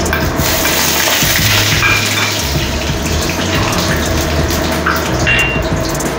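Garlic cloves dropped into hot oil in a pan sizzle and hiss steadily and loudly throughout, a continuous broadband frying crackle with no voices.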